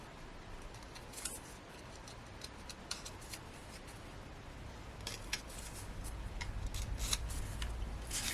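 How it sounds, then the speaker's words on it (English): Scissors snip die-cut card pieces from a botanical birds crafting set, giving a run of small crisp clicks and snips, close and fairly quiet, spaced irregularly over a low steady room hiss with no talk. "we're just going to snip those pips"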